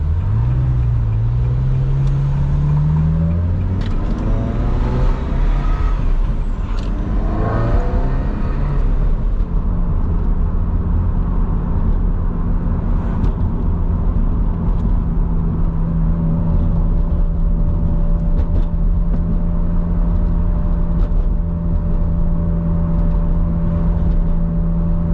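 Ferrari 360 Modena driven out of a busy city, its engine revving up through gears early on, then settling into a steady cruising drone with a faint high whine, loud and close with no talk.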